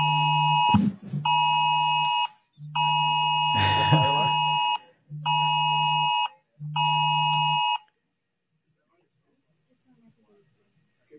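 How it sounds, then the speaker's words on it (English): A phone emergency alert tone from a national wireless alert test sounds as five loud, harsh buzzing blasts with short gaps, a voice briefly talking over the start and middle, then near silence. "We're having a little bit of a sound like an Amber Alert or something"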